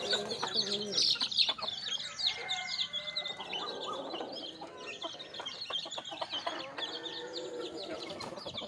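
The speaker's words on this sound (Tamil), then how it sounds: "ஒரு ஒரு கோழியாக தான் மெதுவாக வெளியே வந்துட்டு இருக்கோம் ப்ரோ" Country chickens emerging one by one from an opened coop, with steady clucking and calling from several birds close by and a busy, continuous flock chatter throughout.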